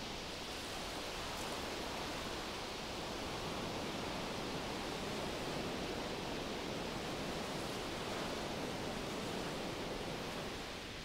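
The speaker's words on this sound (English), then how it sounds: "the waves fall onto the beach" Ocean waves on a beach strewn with driftwood, a dense, continuous roaring wash of surf that swells gently without distinct gaps, steady and full, with no voices.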